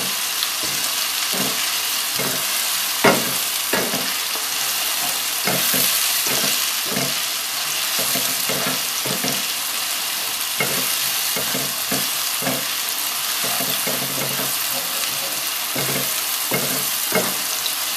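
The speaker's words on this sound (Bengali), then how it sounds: "এটাকে এবার আমাদের ভালো করে নাড়াতে হবে" Chopped onion fries in a hot pan with a dense, continuous sizzle while a utensil stirs and scrapes in frequent irregular clicks and taps, close and fairly loud.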